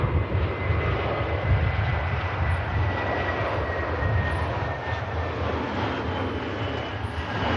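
A Turkish Airlines jet on the runway at Manchester Airport gives a steady, loud broadband engine roar that holds without a break, with no voices.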